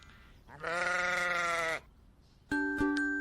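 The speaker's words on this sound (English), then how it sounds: "Food for the sheep." One long, close sheep bleat, loud and wavering, then a short pause and a brief tonal note.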